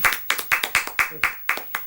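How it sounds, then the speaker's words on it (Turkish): Children clapping for their father in a steady, even rhythm of about eight crisp claps, loud and close, with voices faintly underneath. "babanıza bir alkış yapın bakalım ya"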